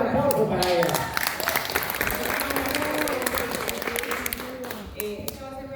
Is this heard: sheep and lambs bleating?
no